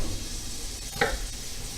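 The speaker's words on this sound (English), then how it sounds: "Oh, stir that linguine." Linguine stirred in a pot during a clam linguine cook, a brief scrape and bubble near the middle of a short stretch, set against a steady background hiss of cooking.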